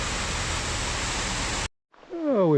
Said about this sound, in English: Another little waterfall along the way.